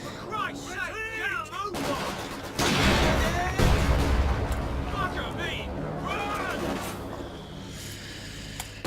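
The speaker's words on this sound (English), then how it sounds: "Dropped a grenade on him, told him to get lost." Gunfire and a grenade explosion in the video game Company of Heroes 2, a loud burst of artillery-like blasts and rattling shots in the middle of the battle, with someone narrating over the combat.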